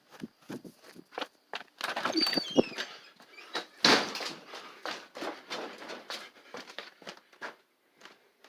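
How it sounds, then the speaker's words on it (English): A door opens in a house during an overnight ghost-hunting stay, with scattered knocks, creaks and footstep-like thumps coming close and loud through the quiet room. "The door's open."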